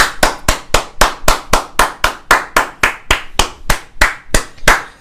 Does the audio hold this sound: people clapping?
yes